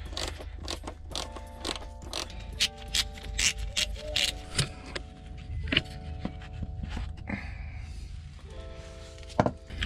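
A ratchet works on turbo pipe bolts under a Ford Mondeo Mk4 during a clutch job, with bursts of clicking and metallic clanks spread through the clip at close range.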